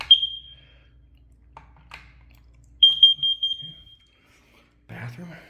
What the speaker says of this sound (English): Carbon monoxide detector there.